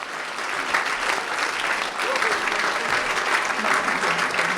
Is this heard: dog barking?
no